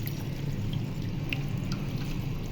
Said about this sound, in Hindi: अब इसमें ऐड करेंगे 2 गिलास पानी।